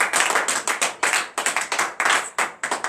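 Rhythmic clapping in praise at a morning prayer service in Benin, a few quick bursts of hands striking together, close and fairly loud, with no talking over it.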